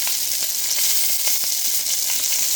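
Onions hit a hot pan where chicken has been browning, raising a loud, dense, continuous sizzle with faint crackles and the occasional stir close by.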